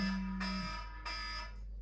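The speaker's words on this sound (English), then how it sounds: "Oh, that's my timer." A kitchen timer goes off in a home kitchen while pizza is made from scratch, sounding two buzzy electronic beeps in a row, each about half a second, near and fairly loud.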